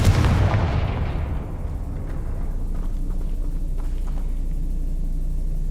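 A Confringo fire spell explosion in the Hogwarts Legacy video game bursts loudly at the start, then a deep rumbling tail decays slowly under a low sustained drone.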